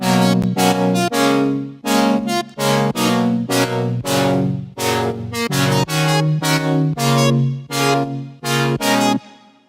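A sawtooth synthesizer with an LFO-swept filter and no resonance plays a choppy, rhythmic chord pattern in short repeated stabs. It is loud and bright throughout and plays alone without voices.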